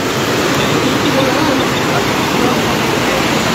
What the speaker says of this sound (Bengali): এই বাঁধ ভাঙার ফলে হু হু করে জল ঢুকছে